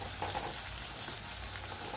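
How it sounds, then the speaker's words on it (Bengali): Potato pakoras fry in oil in a wok over low heat, giving off a quiet, steady sizzle and crackle with no voices. "আঁচটা কমিয়ে রেখে পকোড়াগুলো ভেজে নিতে হবে"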